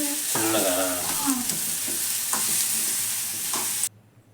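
Red onions fry in a pan with a steady, loud sizzle, broken by several scraping stirs, before the sound cuts off abruptly near the end.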